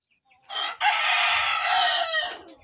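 A Micro Sirama Shamo rooster imported from Malaysia gives one loud, close crow, rising sharply and then holding a long, strained call before trailing off, heard alone in a small backyard.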